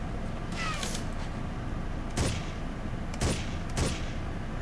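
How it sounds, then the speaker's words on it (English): Gunfire in the Ghost Recon video game, a few sharp reports spaced about a second apart over a faint background hiss, with one softer shot near the start. "Why did you have to shoot?"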